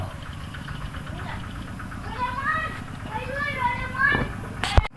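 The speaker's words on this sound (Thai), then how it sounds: "จะได้ยินเสียงรถไถ นาของชาวบ้านเนาะออกไปเกี่ยวหญ้าเนาะเป็นรถไถเดินตามลาก" A villager's walking tractor engine chugs steadily nearby in a rural Thai village in the morning, with a regular knocking rhythm, while children's voices and chatter rise over it.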